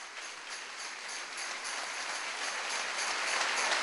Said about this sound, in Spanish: Denle un aplauso fuerte al Señor si se lo quiere dar